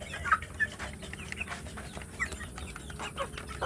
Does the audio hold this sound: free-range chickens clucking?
yes